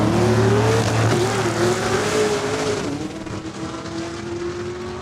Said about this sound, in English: Kelly Neufeld, watch this Cadillac going down the track.